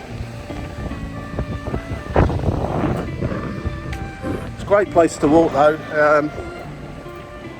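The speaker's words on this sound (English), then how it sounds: "nice sound of the sea, you can't beat that" Sea waves washing over a shingle beach along the coast near Herne Bay and Reculver, a steady rushing wash under wind buffeting, with a person talking nearby and a brief louder surge.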